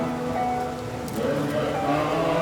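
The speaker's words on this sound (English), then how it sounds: "Untypically for this time of year, it's raining, and the sky is a dark and brooding grey-black." Steady rain falls at dawn over the temples of Angkor Wat in Siem Reap, Cambodia, under a dark grey sky. The patter is a constant, even hiss with a faint low rumble and no break.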